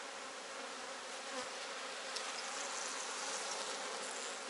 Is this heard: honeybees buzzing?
yes